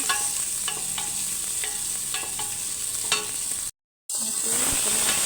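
Onion sautéing in hot olive oil, sizzling steadily up close with regular spatula scrapes and a short silent break near the end.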